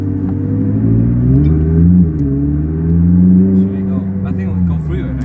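McLaren sports car accelerating, a loud steady engine rumble with rising and falling pitch heard from inside the cabin, continuous throughout with faint voices underneath.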